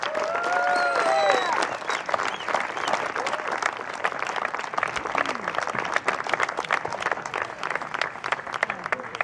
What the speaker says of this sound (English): Let's give Cameron one more round of applause